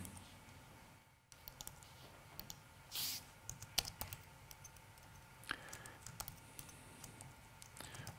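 Typing on a computer keyboard, with scattered quiet key clicks and taps spread irregularly through the stretch, close and faint, plus a brief rustle partway in.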